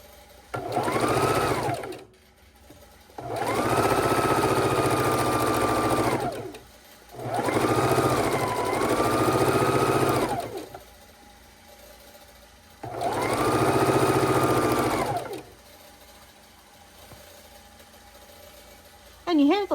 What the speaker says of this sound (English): Gamble sewing machine in the background.